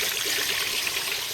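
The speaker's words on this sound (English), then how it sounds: "Now I'm doing a reverse flush on the radiator. Just pump it in down the bottom here, let it come out this side" Water pours steadily out of a car radiator during a reverse flush, a continuous close splashing trickle with no talk over it.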